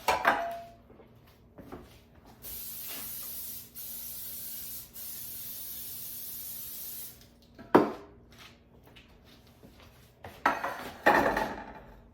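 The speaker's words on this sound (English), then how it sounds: "I'm going to go ahead and spray my muffin pan." Several short hissing bursts of aerosol cooking spray onto a metal muffin pan, close by, followed by clattering of the pan and kitchen handling noises.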